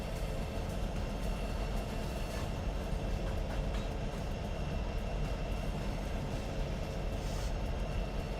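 A CSX locomotive in the Trainz railroad simulator rumbles steadily along the track, a dense continuous drone of engine and rolling wheels with no pauses and no talk.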